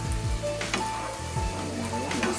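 Chicken pieces for chicken sukka fry in a pan with a steady, close hiss and crackle, broken by a few scraping stirs.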